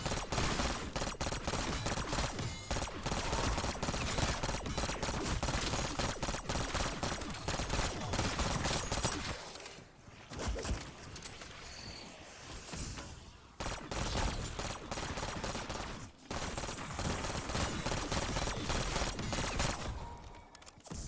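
Rapid burst-fire gunshots from a weapon in Black Ops 6 Zombies, loud, dense volleys crackling almost continuously, broken by short pauses before the firing resumes.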